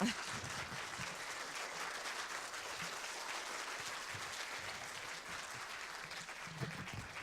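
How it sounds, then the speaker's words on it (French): An audience at a student presentation contest on human rights applauds a presenter, a steady moderately quiet wash of clapping lasting throughout with a few low murmurs beneath. "Voilà, je vous laisse l'applaudir."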